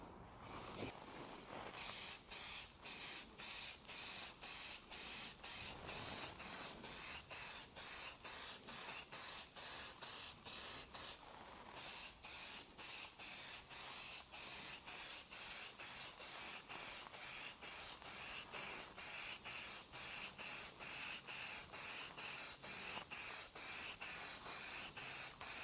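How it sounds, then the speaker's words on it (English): Primer sprayed in short repeated bursts onto a Mazda MX5 front bumper under repair, a steady hissing rhythm of quick passes that runs continuously and close up. "We're going to dust this with filler again, with primer again, to see how far off we are"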